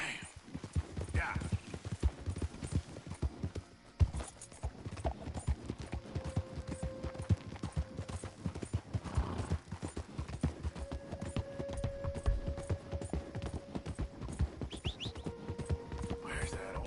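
Horse hooves clip-clop in a steady, rhythmic trot throughout, close and continuous, with occasional bird chirps and faint voices in the background, from the video game Red Dead Redemption 2.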